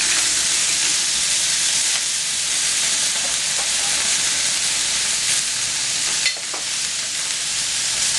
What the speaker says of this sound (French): On pulvérise un peu d'huile sur la plancha. Ensuite, donc, on met le moule.